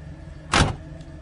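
A single car door bangs shut close by, a brief solid thud with a short rattling tail, standing out against a low steady background hum, with no talk.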